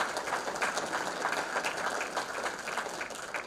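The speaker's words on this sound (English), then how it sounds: "Come and give the Lord a clap today." A church congregation claps together at a Sunday service, making a dense, continuous patter of many hands that sounds fairly distant and soft.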